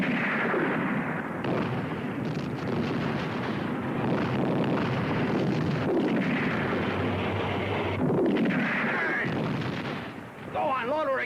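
Heavy booming gunfire and explosions in a 1969 battle film about El Alamein, with tank guns firing amid continuous rumbling battle noise; shouting voices and talk run over the din throughout.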